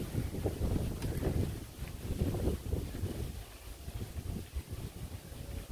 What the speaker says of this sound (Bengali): বাতাসও ছাড়ছে।